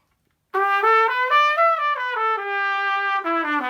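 A solo trumpet plays a rising and falling major pentatonic line from a soul song, clear sustained notes in a steady legato phrase, close and loud with no talking.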